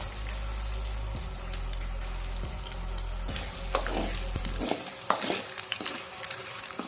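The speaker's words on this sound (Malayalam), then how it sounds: "തേങ്ങ കൊത്തുന്ന് വറുത്തെടുക്കാം" Chopped coconut pieces roasting in a pan with fried onion for a Kerala inji puli, a steady frying sizzle with stirring scrapes and clinks growing busier in the second half, no talk.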